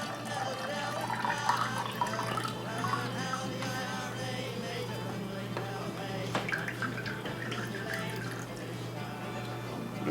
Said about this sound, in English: So I'm going to dump that right into the bouillon.